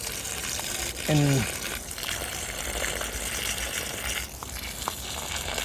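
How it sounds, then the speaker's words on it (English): Water from a hosepipe pours steadily onto cabbages in a dry garden bed, a continuous hissing spray with a brief louder gush near the start. "you can just leave the hosepipe in one place and it'll naturally spread out into the areas that I wanted the water to go"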